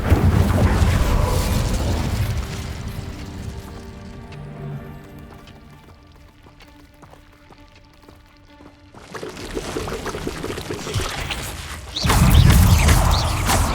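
An Incendio fire spell in Hogwarts Legacy bursts out with a loud roaring whoosh, fades to a quieter mechanical rumble, then flares again in heavy booming blasts.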